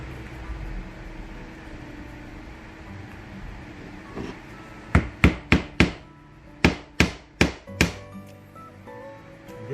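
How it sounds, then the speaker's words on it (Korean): A hammer drives nails into knotty wood while a small tool box is assembled, about nine sharp, close strikes in two quick bursts after a quieter stretch. "망치를 박을 때 조금 이 아까 지금 박는 순간 뭔가 잘 안 들어간다는 느낌을 받거든요"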